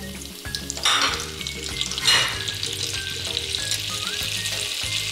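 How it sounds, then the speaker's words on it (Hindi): Butter melts in hot oil in a frying pan while pav bhaji is cooked. A loud, steady sizzle fills the clip, and two brief sharper crackles stand out near the start. No one speaks. "बटर को थोड़ा सा मेल्ट होने दें।"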